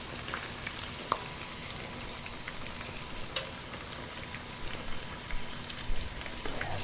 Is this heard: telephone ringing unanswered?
no